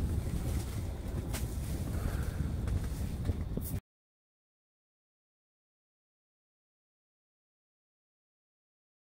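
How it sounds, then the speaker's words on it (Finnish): Strong wind buffeting the microphone on a northern Norway fishing trip, a rough, roaring rumble for a few seconds before it cuts abruptly to silence. "Erittäin tuulinen taas."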